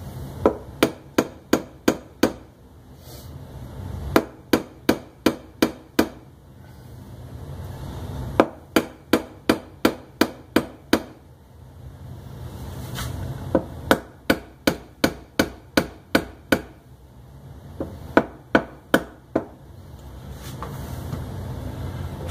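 Sharp, evenly spaced hammer blows drive a wooden dowel during restoration of a Marlin Model 60 rifle, coming in five bursts of about eight to ten quick strikes each, with short pauses between bursts, loud and close.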